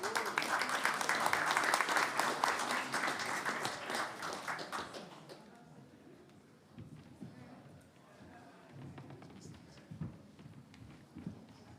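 A panel audience at a Pacific political climate event claps warmly for several seconds, loud at first then thinning out and fading into scattered claps and room murmur.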